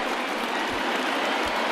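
Baseball stadium crowd of about 33,000 at a Dodgers at Twins game rising to its feet, a dense, steady roar of cheering and applause filling the space with no break.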